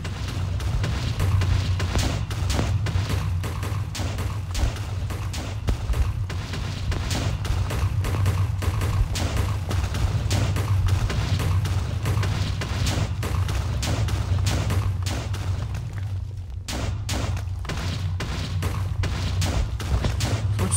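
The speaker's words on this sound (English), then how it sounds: "Now finally, there's some actual explosions" Continuous heavy booming and rumbling Minecraft explosions with crackling bursts, dense and loud throughout, briefly dropping out near the end before resuming.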